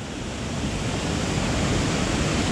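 A waterfall on a Tennessee river during a white bass run roars as a steady, dense rush of falling water, close and continuous with no other sounds.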